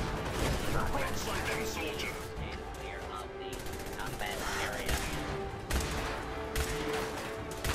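Gunfire in Fallout 4 on survival difficulty: a dense run of repeated shots and crackling bursts over a busy, noisy battle background.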